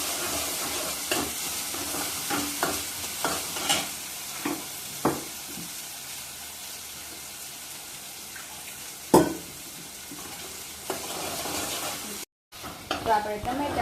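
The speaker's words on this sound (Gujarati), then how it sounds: "ડુંગળી અને લસણ આદુની પેસ્ટ થોડીક વાર આપણે સળવા દેવાની છે" Onion with garlic-ginger paste sautéing in a pan makes a steady low sizzle, broken by repeated scraping strokes of a spoon and occasional clacks against the pan, with a brief gap near the end.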